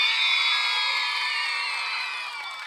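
An audience cheering with shrill sustained shouts and whoops for a contestant from Varna at a Bulgarian folk dance competition, a dense crowd roar that holds steady and then gradually tapers off.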